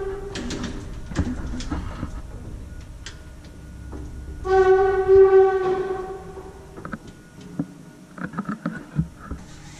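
An original 1924 Kone traction elevator runs with clattering mechanical knocks and clicks, then a loud sustained whining hum midway, followed by irregular thuds and rattles.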